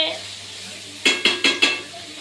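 Prawns frying in a pan in a home kitchen, heard as four quick sizzling scrapes or stirs in a row after a quiet stretch, fairly close, with no talk.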